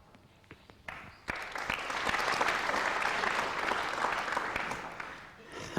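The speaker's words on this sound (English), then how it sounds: "And Steve Davis getting applause for his safety." A sudden burst of sustained applause from a snooker crowd at the 1991 Rothmans Grand Prix final, steady and fairly loud for several seconds before tapering slightly, with a few sharp claps standing out.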